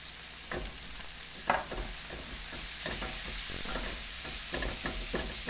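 Onions and peppers cooking in a frying pan, seasoned with kosher salt and black pepper, give a steady close sizzle with intermittent scraping and stirring strokes from a utensil throughout.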